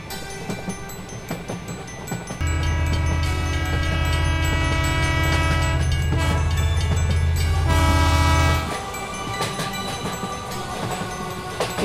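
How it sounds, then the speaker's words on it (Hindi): A train sets off, a loud, steady horn blasting for several seconds over the rumble and clatter of the rail cars, then fading back into rolling track noise. "और अब इन लोगों की ट्रेन भी चल देती है।"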